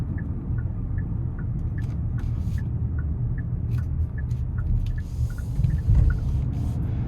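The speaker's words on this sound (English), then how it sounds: "those bigger tires are not producing as much road noise as they could be" A steady, loud low rumble of tire and road noise fills the cabin of a Hyundai Palisade Hybrid SEL Premium on the move, with a faint repeating tick above it and no talk.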